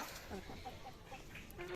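Native backyard hens cluck in short, soft bursts around an injured rooster in a village poultry yard, fairly close, with steady background noise.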